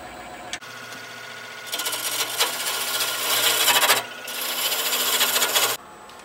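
Wood turning on a lathe: a tool scrapes against spinning wood in a harsh, steady rasp that swells and drops in two long passes over a low motor hum, close up and with no voices.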